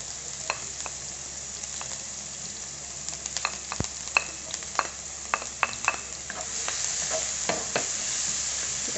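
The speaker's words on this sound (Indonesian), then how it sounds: "Jadi kita tumis dulu bawang bombay dan bawang putihnya." Chopped onion and garlic sauté in a pan, a soft continuous sizzle punctuated by frequent spatula scrapes and clicks against the metal, the frying growing a little louder toward the end.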